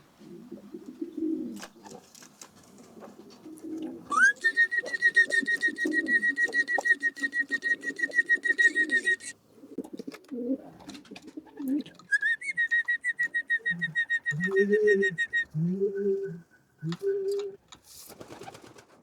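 Young pigeons cooing in an aviary, repeated soft low coos close by, broken by two long high whistling tones and a rapid rhythmic fluttering pulse.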